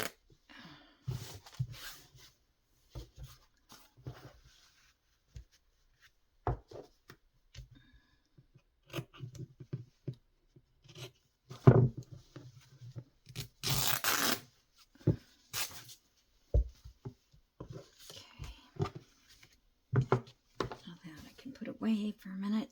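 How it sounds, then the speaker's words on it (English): Scissors cutting paper for book binding, a series of short, close snips and rustles spaced irregularly, with a voice speaking in between. "So I'm going to cut up this side a little bit."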